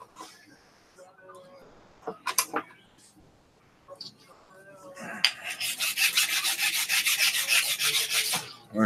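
Sandpaper grinds against a spinning 3D-printed part, a loud, steady rasping scrape that builds in the second half after some quiet handling noises and a voice early on.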